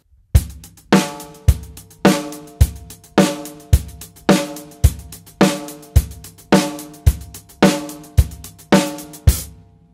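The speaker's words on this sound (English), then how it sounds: "The two-handed groove sounds like this." Two-handed sixteenth-note hi-hat groove on a drum kit in a basic rock beat, a steady loud pattern of strong accents about every 0.55 seconds with busy hi-hat strokes between, played alone with no talking.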